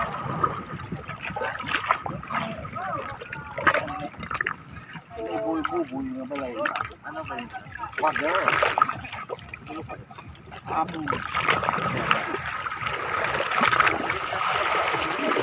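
Rough, choppy water churns and splashes steadily throughout while people talk over it.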